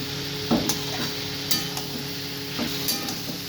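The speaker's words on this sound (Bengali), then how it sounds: "এবারে ভালো করে এটাকে নাড়াতে হবে" Boiled potatoes and cabbage curry stirred in a pan on a home stove, with a few soft scrapes and light clinks of the spoon at irregular intervals over a steady low hiss, close by and with no talking.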